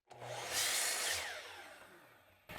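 A power saw makes one quick cut through wooden dowel material, a single bright whine that swells and fades over about two seconds, close and alone.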